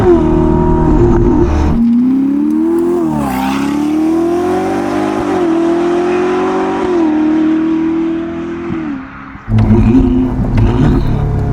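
A 1109 hp Novitec-tuned Ferrari SF90 Spider with the roof off revs hard and loud, holding a rising and falling engine drone for several seconds, then cuts out and roars again.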